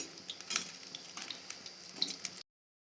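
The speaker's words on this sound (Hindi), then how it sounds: "जब एक तरफ अच्छे से हमारे पकौड़े हो जाए तो दूसरी तरफ ही इसे पलटना है और उलटते पलटते हुए इसे फ्राई करना है।" Pakoras frying in a pan of oil, a steady close sizzle with small pops and occasional scraping clicks as they are turned, no talking.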